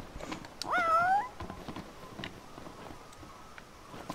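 A cat meows in Final Fantasy XV, a single clear rising-and-falling meow near the start, close and distinct, followed by faint game ambience with light footstep-like ticks.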